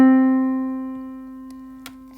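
A single sustained middle C keyboard note rings out clearly with rich harmonics, slowly decaying, followed by a couple of faint clicks at the end.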